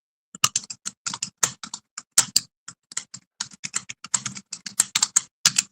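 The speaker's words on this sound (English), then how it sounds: "I'm now I'm typing." Fast, uneven clattering of keys on a computer keyboard, close and crisp, with brief pauses between bursts and no voices.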